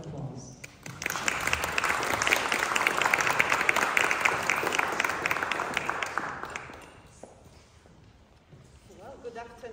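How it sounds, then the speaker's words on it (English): Concert audience applause welcoming a singing trio for a recital, building quickly into dense clapping that holds for several seconds and then fades, followed by a voice beginning to speak. "So a big round of applause."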